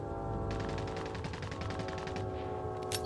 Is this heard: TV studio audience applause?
no